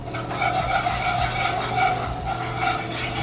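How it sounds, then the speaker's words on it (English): Caramel of melted sugar and butter stirred with a whisk in a pan over heat, giving a steady bubbling sizzle with continuous scraping and swishing strokes, close and fairly loud, with no talk. "So I want to whisk until all the butter is incorporated into the sugar and the caramel"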